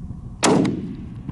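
A single loud rifle shot fired at an antelope during a youth hunt, a sharp blast with a short echoing tail in open country.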